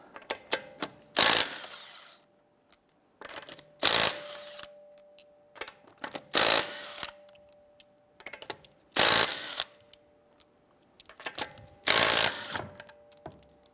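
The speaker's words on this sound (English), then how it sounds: "Using our 19mm socket, I'm going to go ahead and remove our lug nuts." Lug nuts being loosened one at a time with a 19mm socket on a 2012–2017 Toyota Camry front wheel, five separate bursts of impact-tool rattle spaced about every two to three seconds, with quieter clicks and clanks between them.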